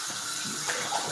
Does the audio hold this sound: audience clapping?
no